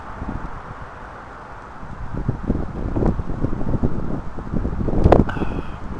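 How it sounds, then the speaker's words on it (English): Wind gusts outdoors on a cold, blustery day, a steady broadband rush that swells and buffets the microphone, with a brief sharper knock near the end and no voices. "Cold, windy day."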